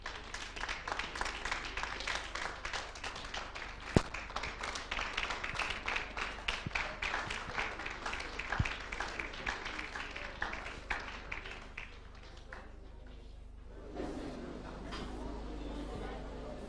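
A conference audience applauds in a dense burst of many hands clapping, loud and sustained for about twelve seconds before fading to scattered claps and a quieter room.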